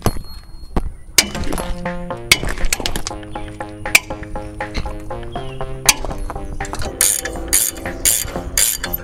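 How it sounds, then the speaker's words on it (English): Ratcheting wrench fitted with a cheater bar loosens lug nuts on a dually pickup's brake hub, giving repeated sharp metallic clicks and clanks, close and loud, with a faster burst of ratchet clicks toward the end. "And that is called using a cheater wrench."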